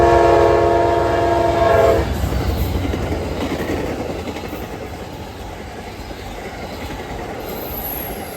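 An Amtrak passenger train rushes past a railroad crossing, loud and close. A blaring multi-tone horn sounds at the start, followed by a steady roar of rumbling wheels and rattling cars that slowly eases. No voices are heard.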